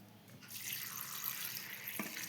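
Water pours steadily into a cooking pot while village-style gongura pulihora is being made, a soft, continuous splashing rush heard on its own.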